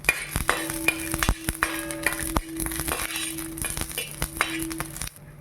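Peeled garlic cloves and green chillies roast in a pan for a peanut chutney, giving a soft steady sizzle broken by several sharp clinks and scrapes of a spoon against the metal, close and clear with no talking.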